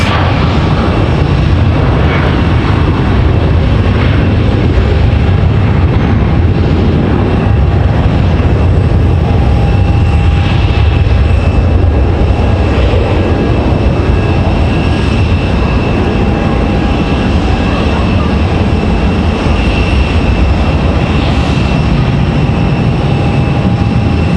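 An Icelandair jet airliner at Raleigh Durham airport makes a loud, steady engine roar that holds for the whole stretch as a broad, unbroken rumble with a faint whine on top, and no voices.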